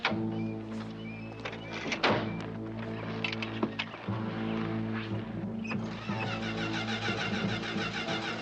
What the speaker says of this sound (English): this car does not start